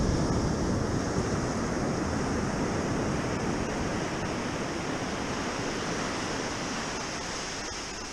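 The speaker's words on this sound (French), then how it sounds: "Les vagues, ça marche par série" Ocean surf breaking in a steady wash near a fishing kayak at sea, loud broadband roar with wind buffeting the microphone, no voices.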